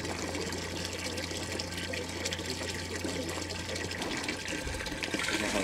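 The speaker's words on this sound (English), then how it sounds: "As the water runs through, it starts cooling the panel" Water running steadily through a hybrid PV-thermal solar panel, a continuous broadband rush and trickle with a low hum that cuts out near the end, no talk.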